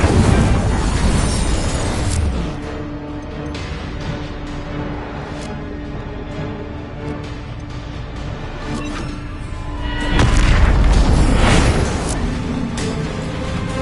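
The Incendio fire spell from Hogwarts Legacy bursts in a loud roaring blast, followed by a sustained rumbling crackle and a second big whoosh near the end, all dense and close with no talking.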